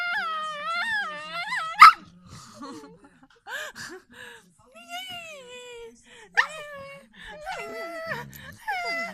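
A dog lets out a strange, wavering whimpering howl in several rising and falling bursts, close and fairly loud, with a television newscast talking in the background.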